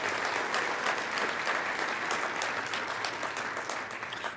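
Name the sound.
audience applause for sponsor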